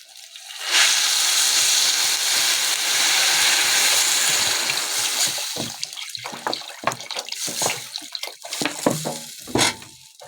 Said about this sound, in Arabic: هنحط لها ميه